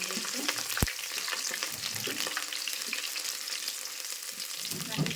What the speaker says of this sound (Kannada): ಎಣ್ಣೆ ಬಿಸಿ ಆದ್ಮೇಲೆ ಇದಕ್ಕೆ ಶುಂಠಿ ಬೆಳ್ಳುಳ್ಳಿ ಪೇಸ್ಟ್ ನೋಡ್ರಿ ಮನೆ ರೆಡಿ ಮಾಡಿದ್ದೆ ಬೆಳ್ಳುಳ್ಳಿ ಫ್ರೈ ಮಾಡ್ಕೊಳ್ಳೋದು